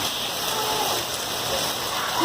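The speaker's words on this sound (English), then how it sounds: "dude, it's hailing out there." Hail and heavy rain pour down steadily outdoors, a dense, even hiss of impacts with no voices over it.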